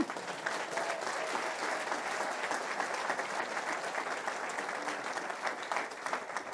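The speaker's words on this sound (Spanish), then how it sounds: "Aplauda, iglesia, al Señor" A church congregation at a Spanish-language service applauds, a continuous, dense patter of many hands clapping at a steady, moderate level from start to finish, with no voices over it.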